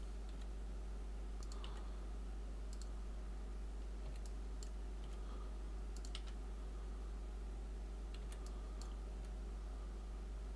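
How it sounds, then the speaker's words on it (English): Computer mouse clicks come as scattered, quiet, sharp ticks in small irregular clusters over a steady low electrical hum, with no talking. "Just a little bit more clicking."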